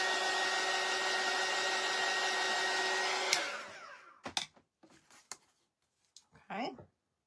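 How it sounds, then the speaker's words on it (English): A heat tool blows hot air onto a craft napkin, a loud steady whir for about three seconds that cuts off and winds down, followed by scattered light knocks and handling sounds. "Let me take the heat tool to this."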